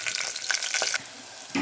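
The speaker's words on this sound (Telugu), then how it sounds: "మంచిగా ఆనియన్ వేగాలి." Chopped onion frying in about three spoons of oil with cumin and mustard seeds in a pressure cooker, giving a steady bright hiss that drops off partway, then briefly returns.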